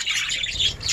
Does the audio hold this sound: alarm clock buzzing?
no